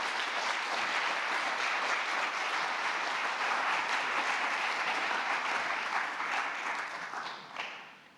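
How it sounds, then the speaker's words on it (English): Seminar audience at the G20 Fukuoka financial innovation event gives a sustained round of applause to welcome Governor Kuroda, steady dense clapping that tapers off near the end. "Let's welcome him with a big round of applause."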